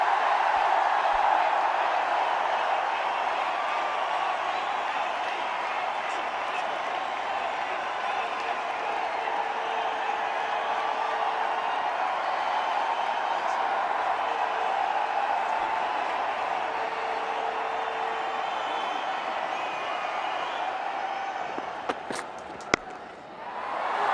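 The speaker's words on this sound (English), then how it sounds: "he gets an enormous round of applause from players and fans alike" Crowd at a cricket ground applauding a batsman's double hundred, with players and fans joining in; broad, steady applause and crowd noise hold for the whole stretch, with a sharp knock near the end.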